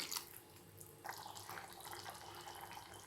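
Water poured into a pot of oil-based brinjal gravy cooking with coconut paste, a steady trickling splash that carries on for about three seconds at moderate, close level with no voices.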